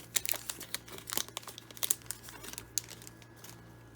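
Foil wrapper of a 1998 SPx Finite baseball card pack being torn open and crinkled, with a series of sharp crackling bursts close up over a faint steady hum, no talking.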